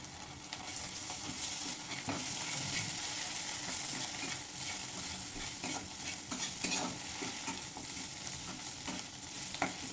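Ginger-garlic paste sizzles steadily in hot oil with golden fried onions, a continuous loud crackling fry with stirring scrapes throughout.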